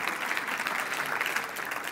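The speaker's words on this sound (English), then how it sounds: "give a round of applause for yourself" A conference audience applauds steadily at a business talk on Facebook ads, a dense, even wash of many hands clapping that holds at full strength throughout without letting up.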